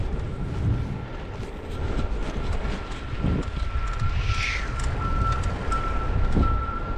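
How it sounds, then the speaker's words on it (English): A dump truck backs along train tracks, its reversing alarm beeping steadily at a distance over a constant rumbling outdoor background with wind and road noise. "It's a dump truck going backwards on the train tracks."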